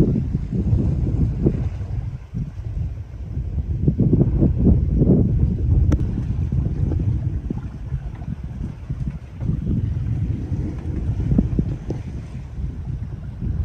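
Steady wind rushing past while sailing under genoa in about 15 knots off Patmos, a continuous broadband roar buffeting the microphone, with swells of gusts and water noise throughout.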